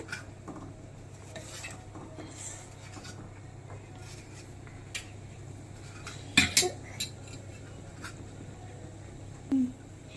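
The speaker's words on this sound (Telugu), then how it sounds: "ఇప్పుడు కలుపుకోవాలి మనం" A spoon stirs boiling tomato rasam in a pot, with quiet scraping and a few sharp metallic clinks against the rim, over a low steady background hum.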